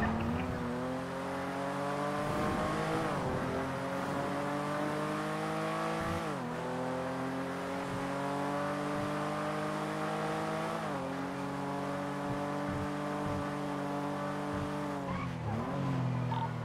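A car in a GTA roleplay game being driven to a police station, its engine droning steadily and shifting pitch as it accelerates and changes gear, with occasional tire squeal, close and continuous with no talking.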